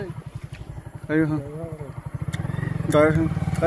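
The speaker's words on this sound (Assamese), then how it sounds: "মেইন ৰাস্তাত গাড়ী আছে গাড়ী" A motorcycle engine chugs steadily in a fast, even rhythm close by, with people talking over it throughout.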